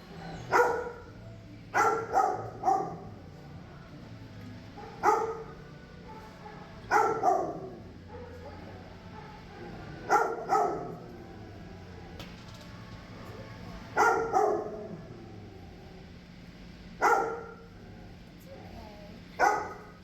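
Dogs bark in short bursts of two or three, spaced every couple of seconds, echoing inside a kennel with a low hum beneath.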